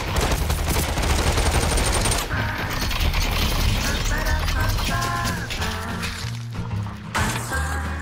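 Dense, loud bursts of rapid gunfire and impacts in the VR shooter game Population: One, layered with game music and mechanical effects throughout.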